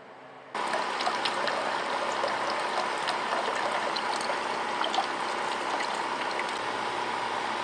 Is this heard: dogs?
no